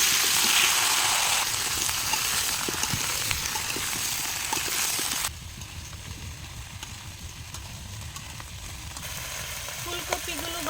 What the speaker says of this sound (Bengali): এখন বাকি তেলটার মধ্যে ফুলকপিগুলো ভেজে নিব।